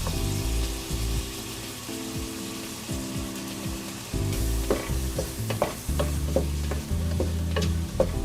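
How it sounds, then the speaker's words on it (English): Herbs and spices toasting in a hot pan give a steady close sizzle, with stirring scrapes and a few sharp clinks toward the end, no voices. "I'll add in those herbs and spices and toast them for a few minutes."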